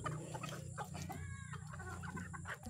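Chickens pecking at leftover coconut pulp, with clucks and soft rooster calls close by over a steady low background hum, busy and irregular, no talk.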